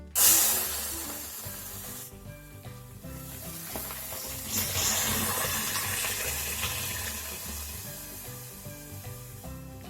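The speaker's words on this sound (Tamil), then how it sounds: "இப்ப தண்ணி ஊத்தி வேக வை" Water is poured into a hot pan of horse gram for chutney, setting off a loud burst of sizzling that settles into steady bubbling and hissing.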